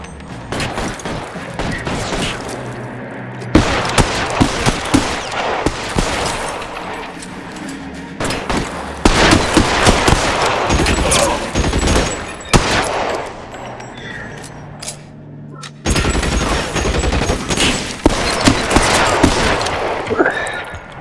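Heavy video-game gunfire in L.A. Noire: The VR Case Files, a police shootout with dense, overlapping bursts of shots and automatic fire that keep going loud throughout, broken by short lulls.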